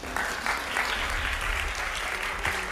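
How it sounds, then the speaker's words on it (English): Audience clapping at a physics symposium, a steady patter of many hands that carries evenly at moderate volume, with a faint low hum underneath. "You're all supposed to clap."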